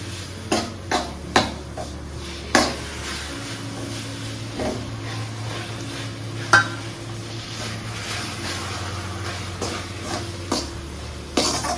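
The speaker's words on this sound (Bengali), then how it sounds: "চিনির যে শিরাটা তৈরি করেছি এটা আমি অল্প অল্প করে দেবো আর এটা মেশাতে থাকবো" Sugar syrup being stirred into besan (gram flour) in a pan on a gas stove for milk cake, with repeated scraping clinks of a spoon against the pan over a steady low burner hum.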